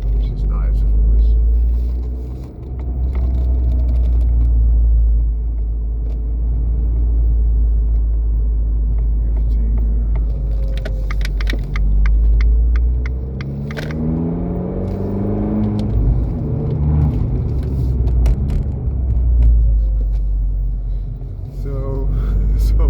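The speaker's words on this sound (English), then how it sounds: "this record MONZA exhaust system sounds excellent" Abarth 595C Turismo with the roof open and a Record Monza exhaust, heard from inside while driving. The low exhaust rumble is continuous and fairly loud, with a few gentle rises in revs and someone talking over it.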